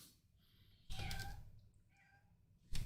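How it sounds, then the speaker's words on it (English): A house cat meowing at a door: a few close, clear meows spaced apart, with quiet pauses between calls and no talking. "my cat is making herself known at the door."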